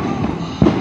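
A single fireworks rocket bursts with a short dull bang partway through, heard from a distance over steady outdoor background noise at a religious procession in San Miguel, El Salvador.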